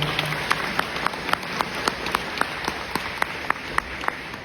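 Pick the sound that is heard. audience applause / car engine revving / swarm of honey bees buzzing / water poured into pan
audience applause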